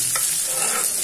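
Onion hitting hot oil in a home kitchen pan during beans-carrot poriyal prep, a steady close hiss of frying with crackling spatter and a brief stir scrape, no voices.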